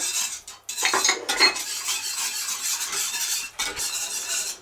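A spoon stirring soup in a metal pot on the stove, close and loud scraping and clinking against the pot in continuous strokes, with no talk.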